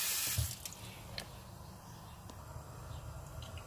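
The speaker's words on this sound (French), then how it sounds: "je vais juste rincer à l'eau froide pour enlever les petites imperfections qui sont dessus" Cold tap water runs steadily into a kitchen sink while ingredients are rinsed under it, a soft continuous splash with a few faint drips and clinks, fairly quiet and alone.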